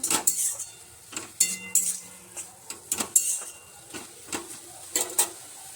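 A metal lid set onto a pot of boiling red amaranth greens, heard as a series of sharp clanks and clinks of metal on metal, close and uneven, over a faint background with no voices.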